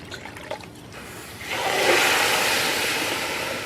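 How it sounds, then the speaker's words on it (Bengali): Water splashes and pours into a bowl of sugar for syrup, a soft, close, rushing stream that swells after a few light clinks and then runs on steadily. "হাফ বাটি চিনি নিয়েছি আর এক বাটি জল দিয়ে দেবো"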